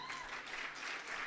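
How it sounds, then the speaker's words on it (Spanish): A singing contest audience breaks into brief, fairly soft applause, a dense wash of clapping that lasts only a moment. "Fuertísimo ese aplauso entonces para los familiares y la hinchada"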